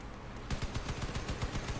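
Rapid bursts of vehicle-mounted gunfire from a Crossout gun truck fitted with twin 88mm turrets, a steady run of repeated loud shots following a quieter opening half second.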